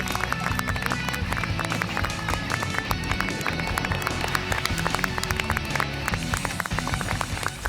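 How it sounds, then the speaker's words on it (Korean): An audience at a Seoul city council youth forum welcomes an architect to the stage with sustained, dense applause. Rapid, overlapping claps run evenly for several seconds with no one speaking over them. "여러분 박수로 환영해 주시기 바랍니다"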